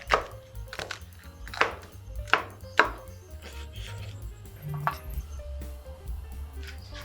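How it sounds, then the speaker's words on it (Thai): Knife chopping water spinach on a cutting board into bite-size pieces, a series of sharp irregular cuts through crisp stems, close by, with a low hum underneath. "เสร็จแล้วก็หั่นเป็นท่อนๆให้พอดีคำ"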